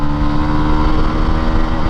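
A Hero Xtreme 160R BS6 motorcycle engine drones loud and steady at high revs toward its 9000 RPM red line, a sustained buzzing hum heard from on board with wind rush.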